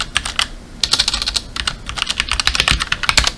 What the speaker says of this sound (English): type in our new password